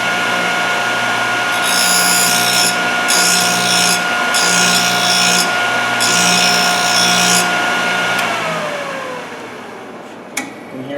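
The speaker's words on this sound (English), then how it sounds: "I'm going to do 4 grinds on this one as well" A Thorvie AV-40 sharpening machine grinds the flute of a masonry drill bit with a steady, loud motor whine. Four distinct grinding passes rise over the drone before the motor winds down and stops.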